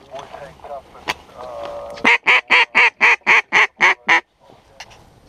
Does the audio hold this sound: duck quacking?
yes